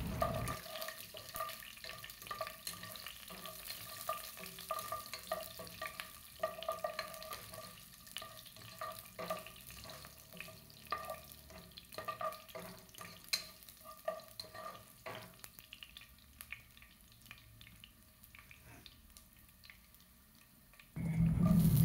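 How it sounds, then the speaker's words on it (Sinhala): Chopped garlic sizzles in hot oil in a pan for a Sri Lankan tempered mushroom dish, giving a steady low crackle with occasional stirring scrapes throughout, ending in a louder rustle. "දැන් මම ඒකට කපාගත් සුදු ලුණු බික් ටිකත් එකතු කරනවා."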